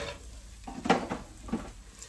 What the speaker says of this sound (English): stirring it up